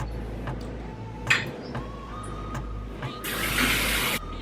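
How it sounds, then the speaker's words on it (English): Tap water runs into a bowl for soaking potatoes, a steady splashing stream with a few clinks from the bowl, then a louder gush near the end before it cuts off. "So fill your bowl up with water."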